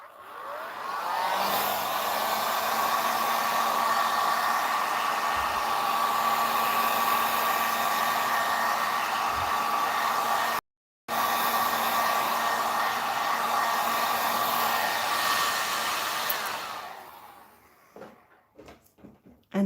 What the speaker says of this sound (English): I'm just going to use my heat gun on low air, low heat